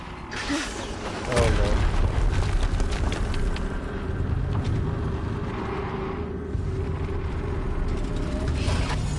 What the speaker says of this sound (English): Now we get to see what the big bad explosion.